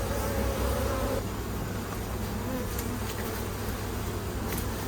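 Honey bees buzzing steadily on a beehive frame, a dense close-up hum of many insects that holds at an even loudness throughout with no voices.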